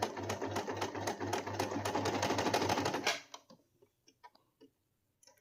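A sewing machine runs in a fast, close, rhythmic rattle for about three seconds as it back-stitches fabric for a scrunchie, then stops, followed by a few faint clicks and handling sounds.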